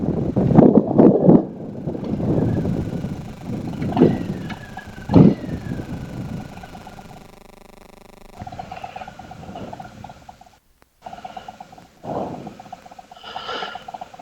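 A motorcycle riding on a road, its engine droning steadily beneath heavy wind buffeting on a helmet-mounted microphone, with engine swells and gear changes and a short quieter stretch near the end.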